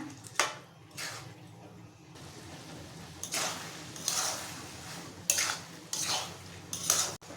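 Rice frying in a pot for chicken keema biryani, with a metal spoon repeatedly scraping and clinking against the pot in bursts over a low steady sizzle, close and fairly loud.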